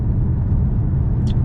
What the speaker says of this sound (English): If you guys haven't heard a Challenger without cats, with long tube headers, without mufflers,